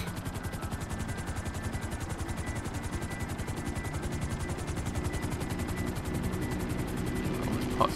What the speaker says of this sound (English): Do not want to crash this helicopter, baby.